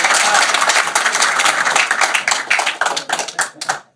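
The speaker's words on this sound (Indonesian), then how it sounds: "Awas, tepuk tangan Pak." Lively clapping from a studio audience during an Indonesian talk show, dense and close, thinning into scattered claps near the end.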